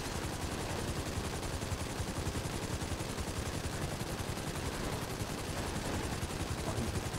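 Rapid automatic gunfire from a GTA Online match rattles steadily for the full stretch, dense and continuous with a muffled, busy game-mix quality and no one talking over it.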